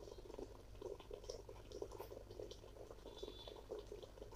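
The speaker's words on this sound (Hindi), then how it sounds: "ये देखिए, इस स्टीमर से मैं ले रही हूँ स्टीम" Electric facial steamer with water boiling inside it, giving a steady bubbling and gurgling that continues evenly throughout, fairly quiet and close, with no talking.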